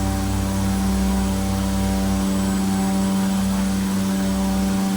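Twin Otter seaplane in a flight simulator, its turboprop engines holding a steady, loud droning hum with strong tonal whine, alone and unchanging throughout.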